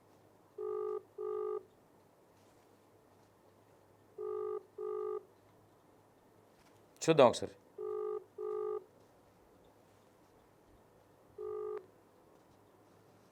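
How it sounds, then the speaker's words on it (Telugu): Telephone keypad dialing tones in short paired beeps, repeating in groups across the clip while a call fails to connect, with a brief burst of speech in the middle and quiet line hiss between tones. "ఫోన్ కలవట్లేదు ఆమెకి మనం చేస్తే."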